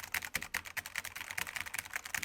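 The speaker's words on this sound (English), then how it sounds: "you can hear the difference in sound when I type on this" Rapid, steady clacking of keys on a Cherry MX Red mechanical keyboard, close and moderately quiet, with no voices.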